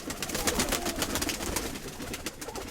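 An old domestic pigeon in a loft coos softly amid a busy rustling background, with other birds faintly audible nearby.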